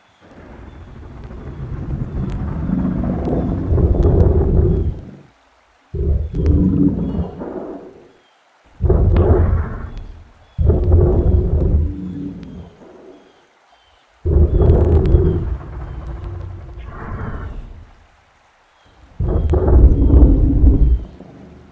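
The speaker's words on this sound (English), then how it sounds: "using the sound of a pelican, crocodile, Eurasian bittern, and various other animals, I'm able to closely recreate the sound of a Spinosaurus" A recreated Spinosaurus call built from pelican, crocodile and Eurasian bittern sounds, heard as a series of deep, rumbling roars lasting a few seconds each, separated by brief silences.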